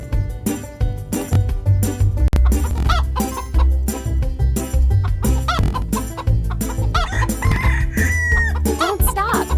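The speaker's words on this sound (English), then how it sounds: "Our hens have scattered all over the garden." Busy hen clucks and a crow fill the scene, over a loud, steady musical backing.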